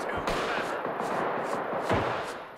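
Gunfire in the video game Deceive Inc: a few sharp shots cut through a dense, noisy game soundscape, steady and fairly loud throughout.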